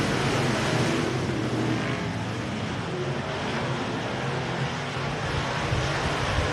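USRA Modified race cars roar around the dirt oval at RPM Speedway during a B main race, a dense, steady wash of engine noise heard from a distance without a break.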